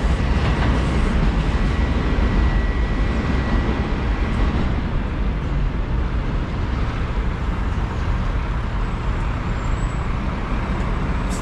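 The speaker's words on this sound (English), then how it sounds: "Train going" A loud, steady low rumble of a New York City subway train passing close by on Westchester Avenue in the Bronx, continuous throughout with no pauses or voices.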